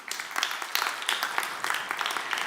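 Applause from a summit audience greeting a speaker taking the stage at a digital public infrastructure event, dense and steady at a moderate distance for a few seconds.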